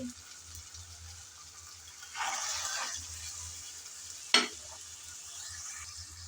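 Green peas tip into hot oil with ginger and garlic and set off a burst of close sizzling. Faint frying follows, then a sharp metallic clink of a utensil against the pan.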